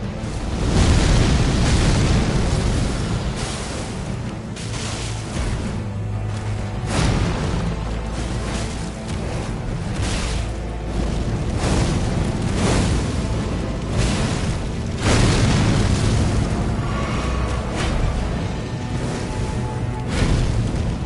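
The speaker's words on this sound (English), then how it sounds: "We'll be able to tell with the initial explosion." Loud, continuous rumbling explosion in the Elden Ring DLC video game, with repeated booming blasts and heavy bursts over a dense roar, lasting throughout with no pause.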